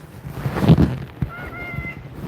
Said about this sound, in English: there's a cat just treating me like a jungle gym